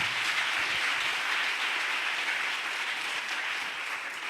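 Sustained congregational applause fills a church service, an even wash of many hands clapping at constant loudness throughout, with no one speaking.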